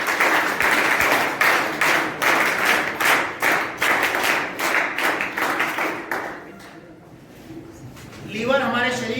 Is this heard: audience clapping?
yes